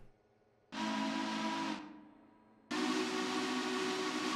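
Two loud blasts of a Heiko long bell three-chime steam whistle in Railroader, a short one tapering off, then a second sustained one after a pause. Each is a breathy chord over hissing steam, with no voices.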